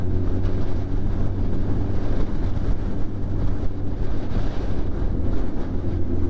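Strong wind buffeting the microphone on a ferry crossing to Hook Head, a loud continuous rumbling roar with a low engine hum underneath and no talk.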